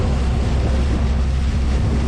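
A boat travels along the Mahakam River near Samarinda, giving a steady, loud rumble of engine, water and wind that holds evenly throughout with no one speaking.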